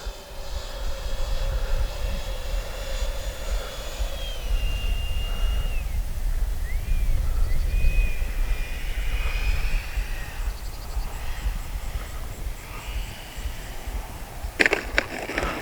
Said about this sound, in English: that's the best landing I've had yet with this plane